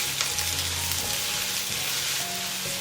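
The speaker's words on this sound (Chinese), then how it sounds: "然后我们再来重新起锅，把这个姜末跟蒜末先炒一下" Minced ginger and garlic stir-fried in a wok, a steady close sizzle and crackle of hot oil with no voices, while the pan is restarted after deep-frying spare ribs.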